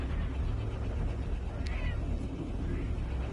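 A pet cat meows loudly over a dense, steady background hum, the short cries faint against the constant noise, with no clear talk during the sound.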